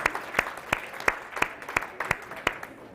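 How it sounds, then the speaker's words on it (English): Outdoor crowd at a mental health walk claps for school psychology staff, sparse applause broken by a run of sharp, evenly spaced loud claps about three per second, like one nearby person clapping steadily. "a big round of applause to you"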